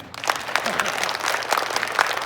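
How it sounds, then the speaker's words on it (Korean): An audience at a cryptocurrency meetup breaks into applause, a steady wash of many hands clapping for a couple of seconds, fairly close and lively with a few sharper claps standing out. "박수 한번 주세요."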